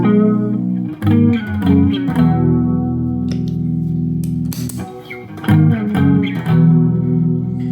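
Electric guitar chords and single notes through an AZOR analog chorus pedal ring out with a shimmering, wavering chorus, played up close and loud with sustained, swirling tails.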